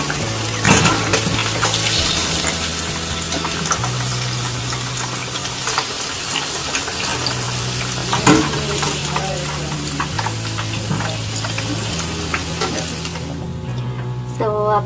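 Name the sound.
fish frying in oil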